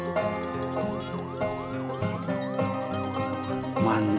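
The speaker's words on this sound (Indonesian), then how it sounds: "Wow, lihat teman-teman, ada mobil ambulan." A toy ambulance plays a wailing electronic siren in repeated rising and falling sweeps, loud and close, running steadily for about four seconds.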